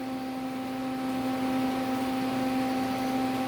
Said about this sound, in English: Sorry about that noise in the background, it's just my little welder over here.